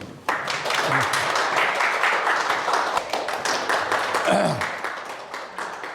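Audience clapping to welcome a guest lecturer at a book seminar held at a district office in Busan: dense, steady applause from a crowd filling the room for about six seconds, with a brief voice surfacing near the end.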